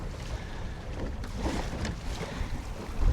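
Waves slapping and washing around a small open boat out on the water, a steady close hiss and splash with gusty wind buffeting the microphone throughout.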